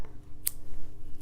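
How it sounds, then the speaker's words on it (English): A pair of scissors snips yarn on a crocheted basket with one crisp, close cut against a quiet background. "Now we snip,"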